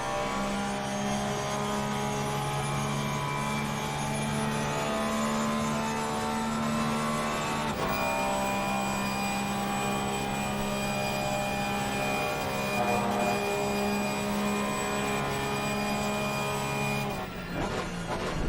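A GT3 race car's onboard engine roars loudly and steadily through a sim-racing lap at Spa-Francorchamps, its tone shifting as gears change near the middle and again just before the end.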